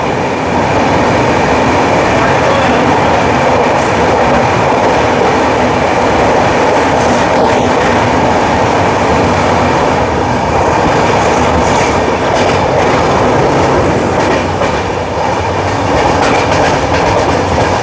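The 22202 Puri–Sealdah Duronto Express runs along the tracks, heard from inside a first class cabin as a loud, constant rumble with rhythmic wheel clatter and occasional faint squeals throughout.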